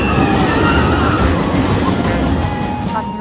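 Loud, continuous rumbling roar of a roller coaster train running on rails at Disneyland Paris, with rattling and clattering throughout, steady and close.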